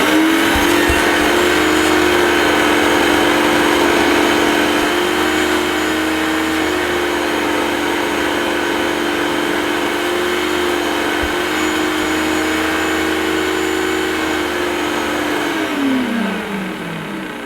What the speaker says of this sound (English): I'm just going to judge the old suction through the hose, which I think will be pretty diabolical, and it'll probably be even noisier now.